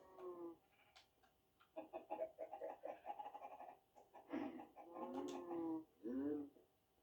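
Minecraft chickens cluck in bursts of short, harmonic calls, close and fairly quiet, with brief silences between them.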